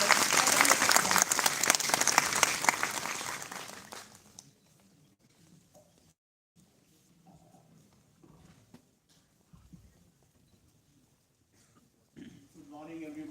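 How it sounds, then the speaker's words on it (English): A burst of audience applause at a university campus ceremony in Jaipur welcoming the president, dense for about four seconds and then stopping abruptly, followed by quiet room noise and faint movement. "round of applause"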